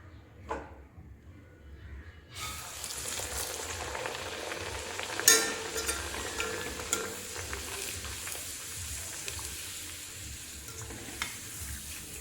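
Aloo puri fry in hot white oil with a soft, steady sizzle and bubbling, faint and close, with an occasional light clink.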